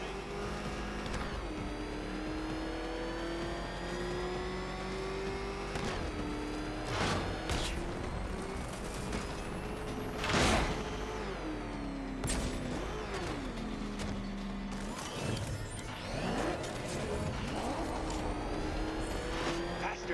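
The Batmobile in Batman Arkham Knight revs and roars continuously, its engine pitch rising and falling with gear shifts and bursts of acceleration, mixed with crashes and game effects throughout.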